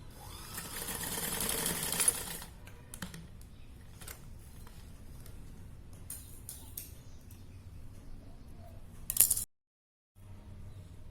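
A sewing machine stitches a child's nine-yard Brahmin-style sari in a long opening run, then short intermittent bursts and a final quick burst before a brief silence, with fabric handling in between.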